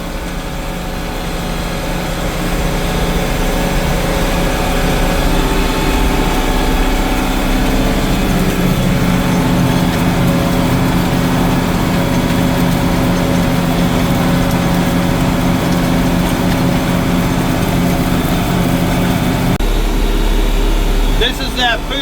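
An International 1486 tractor runs in third gear low pulling a disk chisel through a clover food plot in stormy weather, its loud, steady engine drone filling the scene from start to finish.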